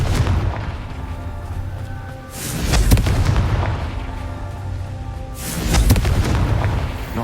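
Fiery Confringo spell blasts in Hogwarts Legacy: two loud booming explosions a few seconds apart over a continuous roaring, crackling rumble.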